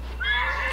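A horse whinnies in the video game Hunt: Showdown, a single rising, wavering neigh close by over a low steady hum, lasting under a second.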